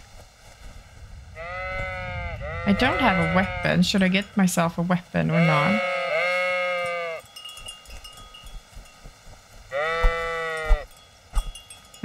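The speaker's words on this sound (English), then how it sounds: "I'm gonna go kill some sheep." Sheep bleat in the video game Kingdom Come: Deliverance, several drawn-out, wavering bleats close by with a longer pause before another bleat, while someone talks over part of it.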